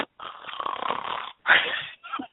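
A person imitates a snore over a phone line, a couple of drawn-out raspy snoring breaths with short gaps between them, close and fairly loud.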